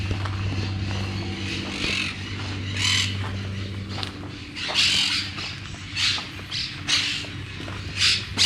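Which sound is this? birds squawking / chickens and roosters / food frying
birds squawking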